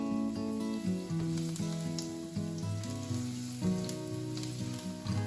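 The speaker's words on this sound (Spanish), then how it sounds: "Primero hacemos calentar aceite en una sartaina y chitamos l'allo." Garlic frying in hot oil in a pan, a steady close sizzle under a prominent musical bed, with no voices.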